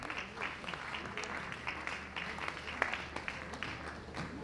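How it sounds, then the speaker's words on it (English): Steady applause from a crowd at a university College of Education conference at UNICAL, fairly distant and even, with scattered individual claps throughout. "Please, a round of applause for him."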